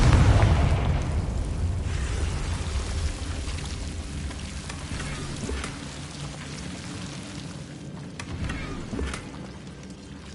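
Fiery spell explosion in the Hogwarts Legacy video game: a loud burst at the start followed by a rumbling, crackling roar that gradually fades, with scattered smaller crackles afterward.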